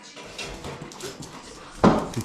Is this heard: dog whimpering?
yes